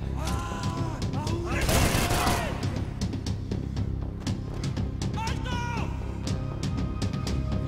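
Gunfire in the action game Max Payne 3, heard as a dense, loud volley of shots and impacts with some scattered clanks that follow. The background sound of the game never stops.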